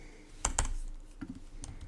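Keystrokes on a computer keyboard while working on FreeBSD ports, a few sharp clustered taps followed by lighter scattered typing, close and clear with no talking.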